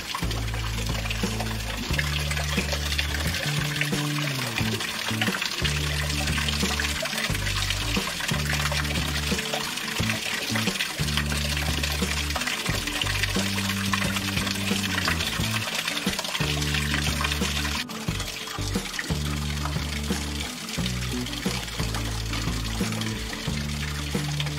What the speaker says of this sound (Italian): questa fontana che, come vedrete fra un attimo, ha come il rubinetto, se vogliamo dire così, una bellissima testa di toro